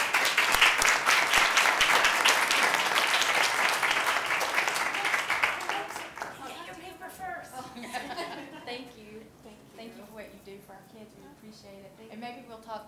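Warm applause from the audience at a board of education meeting, a loud burst of clapping that fades after about six seconds as voices take over.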